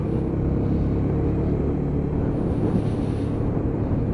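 A Lexmoto ZSB motorcycle riding through town, a steady loud engine drone and rumble mixed with wind buffeting over the microphone, continuous throughout with no talking.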